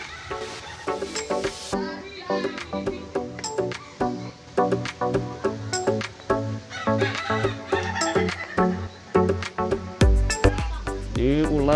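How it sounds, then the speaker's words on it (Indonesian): Loud turkey calls repeat in quick, choppy bursts throughout, with harsh gobbling-like cries crowding close together near the end. "Ini kalkun."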